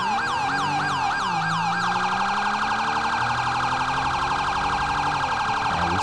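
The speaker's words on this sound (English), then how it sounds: "I can actually hear these guys' siren, though." Police car siren on a CVPI patrol car in GTA 5 with LSPDFR mods wails steadily and loudly, switching from a fast yelp to a slower rising and falling wail, with engine noise beneath.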